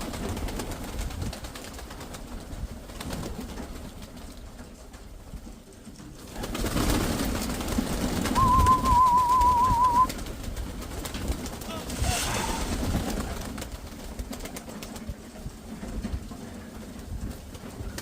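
Pigeons coo softly nearby while people talk over a constant outdoor background murmur.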